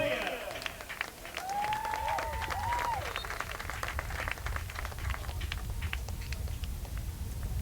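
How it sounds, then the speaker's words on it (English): Bowling Green fans applaud departing seniors at a women's college soccer game at Cochrane Stadium, a steady wash of clapping from a stadium crowd lasting several seconds, with a few whistles rising above it near the start. "So a round of applause there from the Bowling Green fans as the seniors who have done a lot for this program come off the field"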